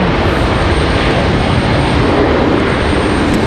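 Frontier Airlines jet arriving at Raleigh Durham airport, a loud, dense, unbroken engine roar filling the whole few seconds, close and steady, with no voices.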